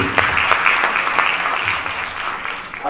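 Dense, steady applause from an audience at a digital leadership keynote event in Kuala Lumpur, a continuous wash of clapping filling the room at full volume with no voices over it.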